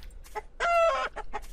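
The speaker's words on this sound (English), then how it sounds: "Ooh, there's a chicken." A chicken in the video game Tree of Life gives one clear, close cluck-crow in a brief burst, flanked by a few fainter clucks and no talking.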